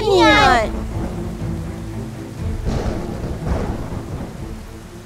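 Heavy rain falls during a thunderstorm as a steady wash of noise with low rumbles underneath, and a voice speaks briefly over it at the start.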